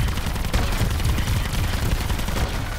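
Rapid gunfire from a zombie shooting video game, dense and continuous bursts filling the whole stretch at close, loud level with no pauses.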